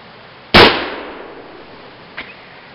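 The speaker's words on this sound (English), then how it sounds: "I'd like to see all the sparks and the big explosion." An Antonio Zoli .58 caliber Zouave carbine fires a single shot: one loud, sharp report with a decaying tail, followed about a second and a half later by a faint, brief knock.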